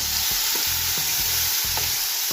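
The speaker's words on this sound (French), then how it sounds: "Alors je vais remuer pour pas que ça colle" Chicken basquaise sizzling steadily in a frying pan, with a few soft scrapes of a utensil stirring through it at a regular pace, close and fairly loud, no talking.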